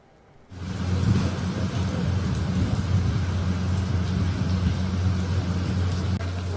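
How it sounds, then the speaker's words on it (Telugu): Heavy rain pours down in Hyderabad, a dense roaring downpour that surges in after a brief quiet start and holds loud and continuous to the end. "హైదరాబాద్ లో మరోసారి వర్షం దంచి కొడుతోంది."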